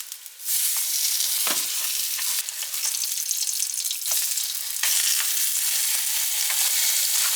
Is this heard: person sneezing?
no